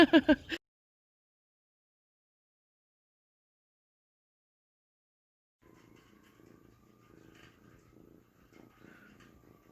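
A soft, steady purr sets in after a few seconds of silence, close and low, following a brief burst of sound at the very start.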